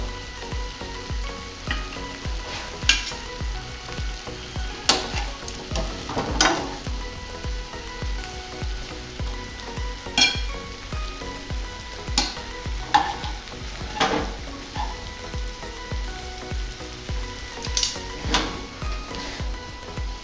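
Cacio e pepe pasta stirred and lifted from a pan to serve, with repeated scraping and clinking of a utensil against metal over a soft continuous sizzle, close and moderately loud, no talking.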